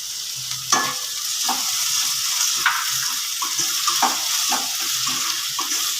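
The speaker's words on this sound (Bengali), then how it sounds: "পেঁয়াজ বাটা রসুন বাটা ভালো করে একটু মিনিট খানেক ভেজে দিয়ে দিচ্ছি" Onion paste and garlic paste fry steadily in a pan with a continuous close sizzle, broken by several sharp stirring scrapes and clicks throughout.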